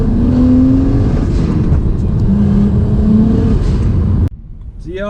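BMW 335i with an N54 engine and a Speedtech bottom-mount single turbo kit, driving on the road with a loud, steady engine drone and shifting tones that drop off abruptly near the end.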